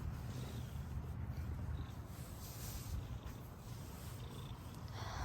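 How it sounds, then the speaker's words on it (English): Several cats purring at close range, a soft continuous low rumble that stays fairly faint throughout, with no talk over it. "There are a ton of cats here."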